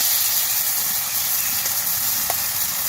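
Onion pakora batter dropped into hot frying oil, producing a loud continuous sizzle and hiss close by with no talk.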